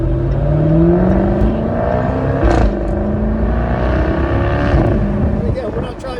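A 2021 Jaguar F-Type R engine pulls steadily with paddle shifting, its loud, continuous drone rising in pitch through gears with brief breaks between shifts, heard from inside the open-top car over wind noise.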